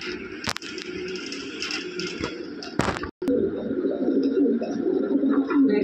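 Pigeons, a U-shaped pair of Lahori birds, cooing continuously at close range among other bird sounds, with a brief scrape and a short break partway through.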